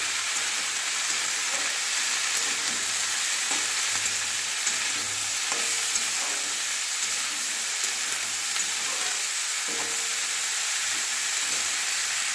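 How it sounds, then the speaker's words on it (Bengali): Vegetarian semolina upma ingredients frying slowly in a pan, a steady broadband sizzle with occasional soft stirring scrapes throughout, no voices. "এরপরে আমি এইভাবে আস্তে আস্তে এগুলো ভেজে নেব।"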